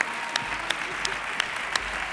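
Sparse, restrained clapping from the audience at the San Sebastián de los Reyes 2013 sports gala, a thin steady patter with a few sharper claps standing out.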